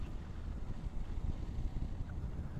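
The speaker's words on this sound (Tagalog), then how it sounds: "Ayan, maganda yung hangin, malamig." Wind rushing past a Suzuki V-Strom motorcycle on a winding mountain road in Benguet, a faint, steady low buffeting roar with gusty fluctuations and no voices.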